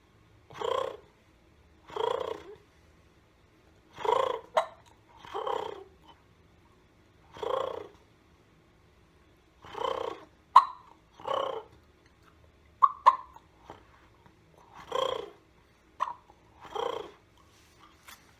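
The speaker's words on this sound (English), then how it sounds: "that's basically purring" Turkey purring made by mouth on a diaphragm turkey call, a series of about ten short, soft rolling purrs spaced evenly with quiet gaps, close and alone.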